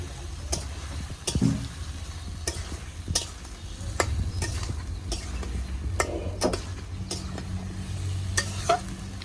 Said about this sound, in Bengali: আর আমার আর ভাইয়ের জন্য 2 পিস মশমশা করে ভাজবো